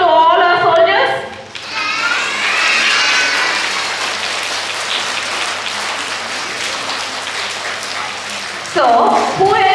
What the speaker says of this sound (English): Can we all give a big applause to all our soldiers?